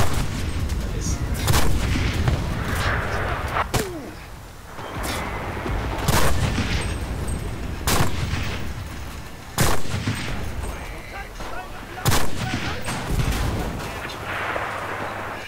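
Bolt-action rifle shots ring out in the Enlisted World War II shooter while firing at enemies in a kubelwagon, a series of loud, sharp cracks every one to two seconds over constant battle noise, with someone talking at times.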